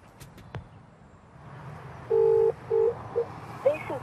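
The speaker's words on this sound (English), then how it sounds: "The intercom system seems to be diverting to a telephone's voicemail." An intercom call diverting to a telephone voicemail system: a few faint clicks, then a series of short electronic tones and beeps of uneven length, like a phone line picking up, alone and fairly quiet.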